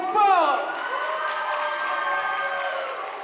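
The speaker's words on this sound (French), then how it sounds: "On applaudit très fort" A crowd at a street dancers show finale claps and cheers loudly, with whoops and shouts peaking early, then a steady wash of applause holding for the rest of the stretch.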